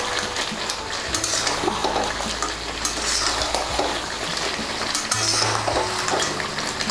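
Crab masala curry with a few green chilies is stirred and fried in an open pan, giving a steady close sizzle with scraping and stirring sounds throughout and no talking.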